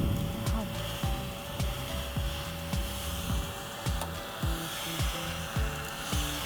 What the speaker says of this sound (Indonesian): sekarang kita mau coba aja untuk bersihin pakai desk vacuum ini. Kita nyalain, tinggal digeser aja, terus kita sedot alatnya.